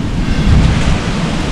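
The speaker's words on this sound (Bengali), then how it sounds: "কি হাওয়া দিচ্ছে" Strong Kalbaishakhi storm wind roars against the microphone in a dense, continuous low rumble, loud and unbroken throughout with no voices.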